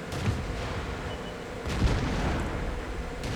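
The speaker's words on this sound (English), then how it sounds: "Firefly's gun fires very rapidly" Firefly tank gun from a tank combat video game firing rapidly: dull booming reports over constant battle rumble, with a stronger shot near the middle, no talk.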